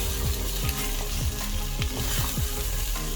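A tablespoon of garlic and ginger paste frying in a hot pan for a lamb stew, a steady loud sizzle with repeated scraping strokes of a spoon stirring it, close up with no talking.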